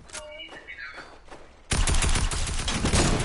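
Sniper gunfire in the Fortnite video game, breaking into a loud, sustained barrage of shots midway after a quieter stretch of game sounds and chatter.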